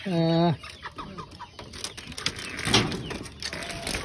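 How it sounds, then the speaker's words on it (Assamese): Chickens cluck and a rooster-like call rings out at the start, followed by scattered clucks and rustling nearby. "এইফালে হ'ল এইখিনি মুৰ্গী আছে দেখিছেনে"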